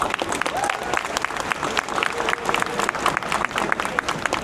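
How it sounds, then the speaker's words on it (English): A live audience at an Atlanta real estate showcase gives a round of applause, steady, dense clapping that fills the whole stretch without letting up. "Let's give Julia another round of applause."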